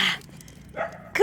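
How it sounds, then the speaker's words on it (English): A dog barks from behind a fence, a few sharp separate barks at moderate distance with quiet gaps between them. "You hear that dog?"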